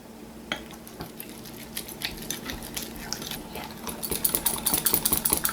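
A spoon scrapes and clinks against a bowl while stirring sugar, vanilla, butter and milk for a Swiss roll cake cream, the tapping sparse at first, then quickening into a busy, close rhythm.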